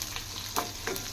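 Tempering of garlic cloves, mustard seeds, cumin and two broken dried red chillies frying in oil on medium heat, a continuous near sizzle broken by a couple of sharper stirring scrapes and pops.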